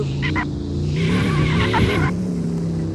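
A car skids with tires screeching in a sustained, close, loud squeal, its engine droning underneath, moments before a collision.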